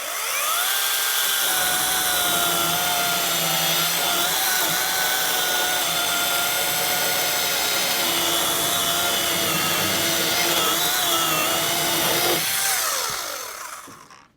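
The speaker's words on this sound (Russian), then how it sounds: "Ну а сейчас просто распилю пилой." A SHIDOKU SH PG2 12-inch cordless telescopic chainsaw buzzes loudly and steadily while cutting through a branch, its motor whine holding for several seconds before winding down at the end.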